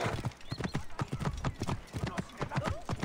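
Rapid rhythmic clip-clop of horse hooves during riding in the video game Assassin's Creed Origins, steady and close, with an occasional whinny and faint game ambience.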